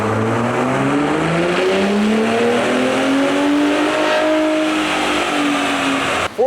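A Gen 3 Ford Raptor running a JB4 Map 2 tune on 93 octane roars under load on a chassis dyno. The engine sweeps steadily upward through the revs in one loud, sustained pull and then cuts off abruptly.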